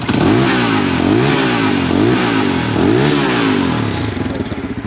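A single-cylinder 250cc double-overhead-cam Aveta VZR250 motorcycle engine revs up and down in repeated surges, loud and close, with a rough, throaty note.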